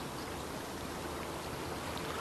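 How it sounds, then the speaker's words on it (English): Deep, swirling river water flows as a steady, soft wash of rushing noise, even and unbroken throughout, with no voices. "And the water's very swirly."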